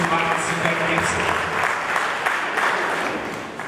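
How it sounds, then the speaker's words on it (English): Dense audience applause fills the room in a steady wash of hand claps for a young citizen of Paynesville, with faint voices mixed underneath before it begins to fade. "let's give a hand of applause"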